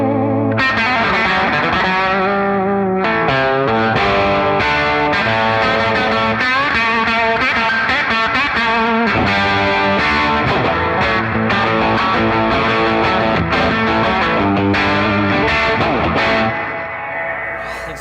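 A wide, washy electric guitar through a stereo reverb pedal, drenched in spacious reverb and a slight distorted edge, ringing chords blending into a lush, continuous wall of sound.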